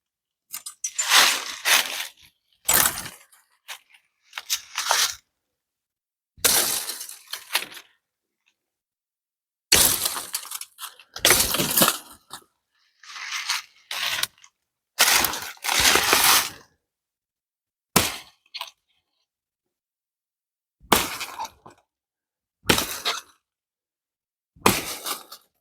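A Fiskars machete axe chops wood outdoors in a field test. About a dozen sharp, crunching blows land one at a time with uneven gaps between them, close and loud.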